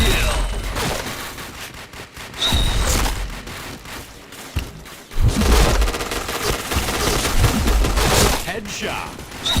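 Rapid bursts of gunfire in the Point Blank first-person shooter game, dense and loud, rattling almost continuously with a few heavier bangs, while a player talks over it.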